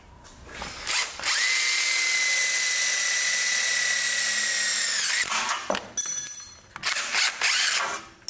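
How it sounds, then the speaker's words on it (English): A power drill whines loudly and steadily for about four seconds while driving in a self-drilling screw, then stops, followed by a few short bursts and clattering handling noises. "And then I got my self-drilling screw."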